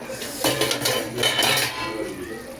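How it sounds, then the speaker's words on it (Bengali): A metal lid comes off a pot of mutton curry cooking in a karai, giving a couple of close clanks and scrapes of metal on metal, then a soft sizzle. "এবার চলুন ঢাকাটা খুলে দেখা যাক কি অবস্থা"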